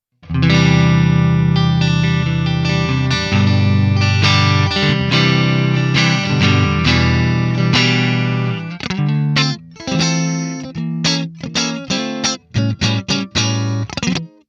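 A distorted electric guitar through a Neural DSP amp simulator, with a processed, effects-heavy, scooped tone, chugs steady heavy chords, then breaks into choppy, stop-start stabs near the end, loud and alone.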